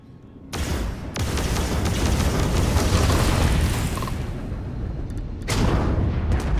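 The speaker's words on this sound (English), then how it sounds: "Oh, the missile did actually hit the space junk" A missile strikes space junk in Starfield, setting off a loud, close explosive roar that rumbles for several seconds, then a second blast bursts in near the end.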